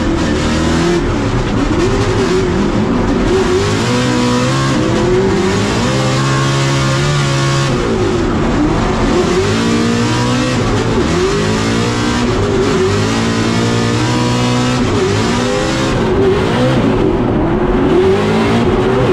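A Formula Drift car slides through a drift at Utah Motorsports Campus, its engine screaming and bouncing off the limiter in rapid revving surges, loud and close, with tire squeal mixed into the continuous roar.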